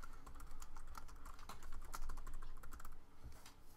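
Fingers type on a computer keyboard in a quick, uneven patter of soft clicks that sounds close but fairly quiet.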